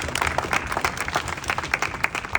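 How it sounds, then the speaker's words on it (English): A gathered audience on the Isle of Wight gives a round of applause, a busy, close, continuous patter of many hands clapping for a couple of seconds. "So I think you should all give yourselves an enormous round of applause."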